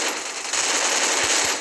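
Rapid automatic gunfire from UMP and M4A1 weapons in the Free Fire mobile game deathmatch mode, a dense, loud continuous burst of shots with no pauses, heard alone.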